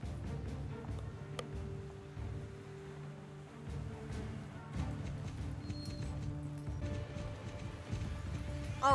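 Steady rhythmic hoofbeats of a galloping horse in the video game Star Stable Online over a constant low ambient bed, with a brief whinny-like tone, moderately loud and continuous.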